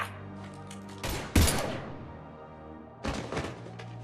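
Bursts of gunfire in a Mass Effect 3 firefight, with a sharp heavy blast near the start, a short pause, then another rapid volley of shots, loud and close with no talking.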